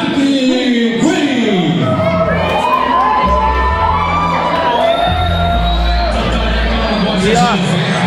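A crowd at a Muay Thai fight night cheers and whoops loudly for a fighter, a dense, continuous roar of shouting voices that fills the whole stretch, with an announcer speaking over it.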